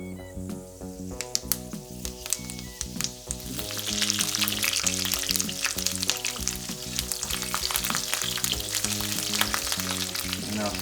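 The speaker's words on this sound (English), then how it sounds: "It's near smoking point, and I'm going to add some fenugreek seeds." Fenugreek seeds hit oil heated near its smoking point and sizzle loudly and steadily, the frying swelling after a few seconds and continuing over a steady background of music.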